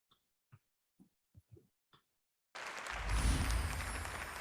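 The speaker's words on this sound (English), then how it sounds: "I heard clapping." Broad, dense noise from a group clapping bursts in loudly midway through and keeps going steadily, preceded by a few faint isolated taps and near-silence, with no talk over it.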